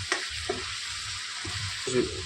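Pav bhaji gravy frying in a pan, a soft steady sizzle broken by a few scraping stirs of a spoon, close and moderately quiet.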